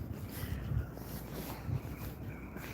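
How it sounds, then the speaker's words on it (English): Wind gusts buffet a microphone out in quiet back streets, a steady low rumble with a couple of louder bumps, no talking. "You hear that wind?"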